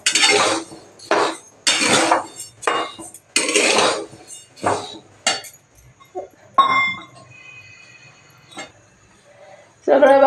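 Rice dry-roasting in a pan, a kilo of grains for chakli bhajani flour, with sharp metallic clinks and scrapes of a utensil against the pan, some of them brief and scattered, alongside stretches of someone talking.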